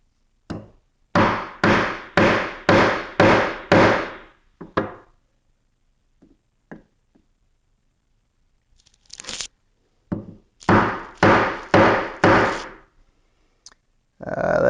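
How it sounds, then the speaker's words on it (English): Chisel hammered into a wooden test piece for a coffee table build: a fast series of about five sharp, loud knocks, then a few faint taps, another short burst of blows, and a final strike, with no talking. "First, I'm going to start with a chisel."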